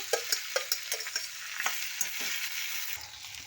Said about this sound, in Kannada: ಬೆಂಡೆಕಾಯಿ ಹಾಕ್ಕೊಂಡು ಚೆನ್ನಾಗಿ ಹುರ್ಕೋಬೇಕು